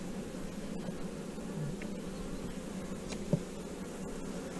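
Dense, steady buzzing of a large mass of honeybees crowded on hive frames during queen-rearing work, a continuous close hum with a brief knock partway through and no talking.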